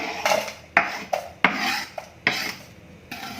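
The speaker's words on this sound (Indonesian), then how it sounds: "Ini gulanya saya masukkan ke dalam panci" Shaved palm sugar dropped into a cooking pot while preparing a potato-based dish with broth, heard as five sharp scraping, clattering impacts spaced irregularly, close and fairly loud with no talking.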